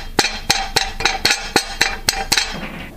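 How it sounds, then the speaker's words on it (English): Repeated sharp metallic taps of a hammer seating a greased sintered copper part made from recycled wire, about nine evenly spaced strikes at a medium pace, close and clear with no talk. "I tapped her in there at a medium pace."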